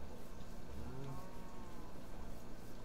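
Cow mooing in the video game Minecraft, a low drawn-out bovine call rising from the mid-clip over a steady background hum, moderately loud with no talk.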